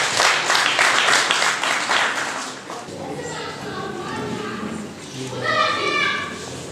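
Wedding guests clap together at a celebration led by an MC, a dense, fairly loud burst of applause that thins after a couple of seconds as a voice talks over the fading claps.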